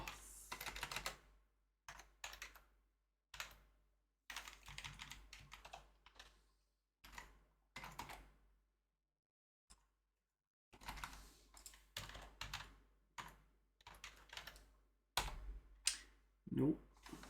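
Bursts of clattering keystrokes on a freshly cleaned computer keyboard, close and crisp, with short pauses between runs of typing and a near-silent gap partway through.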